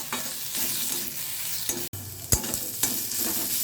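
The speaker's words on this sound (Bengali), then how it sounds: "আদা রসুন বাটা হাফ চামচ মতো দিয়েছি একটু কষে নেবো এক মিনিট" Onion and ginger-garlic paste frying in a pan with bay leaf, a constant loud sizzle broken by several sharp scraping stirs and one brief cutout, no talking.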